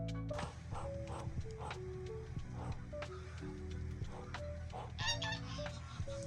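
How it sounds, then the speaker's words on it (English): Muscovy ducks making soft, weird little noises: quiet, short honking calls repeated irregularly over a faint background. "If you listen very carefully, you can actually hear them kind of making their weird little noises."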